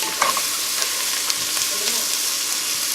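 Onion, bell peppers and garlic sauté in a pan over lowered heat, giving a steady, moderate sizzle with a few light stirring scrapes and taps close by, no voices.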